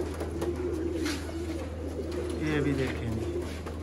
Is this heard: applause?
no